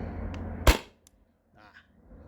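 Single sharp shot from a CO2-powered gun firing a PVC-coated 9.88-gram steel ball through a chronograph, fed by a 20 oz CO2 tank; one loud close crack with quick decay, then a faint clatter afterward.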